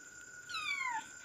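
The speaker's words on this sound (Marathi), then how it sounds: "तर माझी मांजर कशी बोलते ते तुम्ही बघा." A pet cat gives one short, rising-then-falling meow, close and fairly soft, alone against a quiet room.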